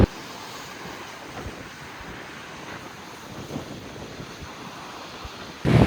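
Strong ocean surf rolls over a pebble beach on Amami Oshima under heavy wind buffeting the microphone, a continuous rough wash of water and hiss that swells and breaks, with a sudden loud gust at the very end.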